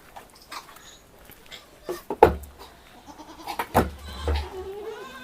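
Goats being handled while drops of mixed oil are put in their noses, with a few short bleats and animal calls rising over quiet background noise at moderate distance.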